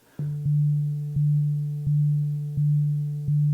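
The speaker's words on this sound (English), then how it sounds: "This is a very basic sine wave, but I've kind of automated this low pass filter," A steady low sine-wave synth tone pulses in a regular rhythm, each note starting bright and then dulling as an automated low-pass filter sweeps it down, repeating about every second.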